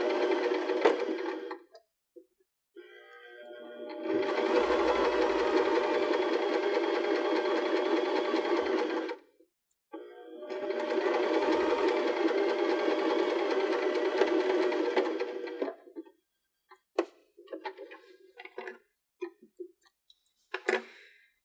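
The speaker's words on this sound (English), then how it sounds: "And backstitch." Close, steady run of a sewing machine backstitching a purse lining, in two long bursts with a brief pause between them, then scattered light clicks and handling ticks.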